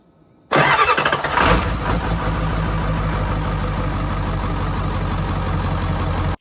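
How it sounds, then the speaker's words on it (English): A vehicle engine fitted with only a downpipe exhaust cranks briefly and catches, then settles into a loud, steady, raspy idle that fills the rest of the clip with no talking. "We're going to see what she sounds like just with a downpipe."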